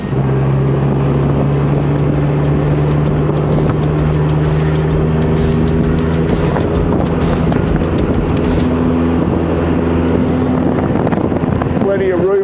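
A 1983 Honda CB1100RD motorcycle is ridden on the road, its engine droning loudly and shifting pitch as it accelerates, with heavy wind rush across the microphone.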